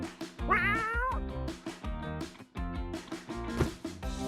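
A house cat meows several times in a row, near and clear. Some calls are drawn out and wavering. Between calls there are soft rustling household sounds, and no one speaks.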